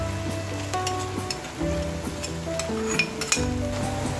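Garlic frying in a pan for pineapple chicken, a steady crackling sizzle with occasional clinks of a utensil stirring against the pan.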